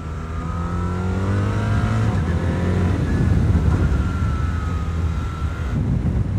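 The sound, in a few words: BMW R 1300 RS twin-cylinder motorcycle downshifting with quickshifter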